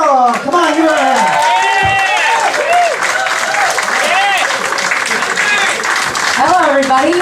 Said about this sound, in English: Come on, give her a hand.